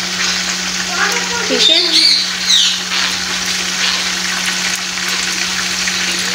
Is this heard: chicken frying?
yes